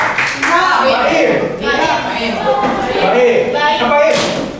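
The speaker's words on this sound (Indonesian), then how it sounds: "Tepuk tangan." An audience claps at an Indonesian teacher-training session, with a burst of hand claps and thumps mixed under loud voices talking throughout, the crowd noise rising and falling at close range.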